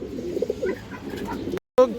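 A male pigeon coos in soft, repeated low throaty calls, close by among other pigeons, with a brief dropout near the end before the cooing resumes.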